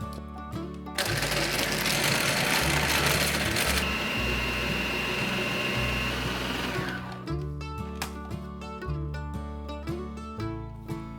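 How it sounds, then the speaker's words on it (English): A blender finely grinds wonton stuffing in a loud, steady roar for about six seconds before stopping, with background music playing throughout. "Blend very finely for 2 minutes"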